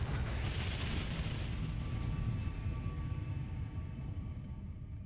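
A large ship bursts into a fiery explosion in the video game Lost Planet 3, a loud sustained roar and rumble with crackling debris that slowly fades over several seconds, with no talk.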